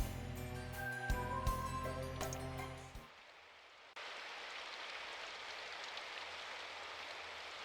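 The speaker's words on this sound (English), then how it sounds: "the rain hitting the cobblestone street" Rain hitting a cobblestone street in the Symphonic Rain video game. A steady, even hiss of rainfall continues alone and fairly quietly once the music cuts off.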